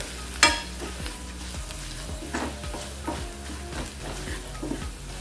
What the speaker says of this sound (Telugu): బాగా మిక్స్ చేసుకుందాము.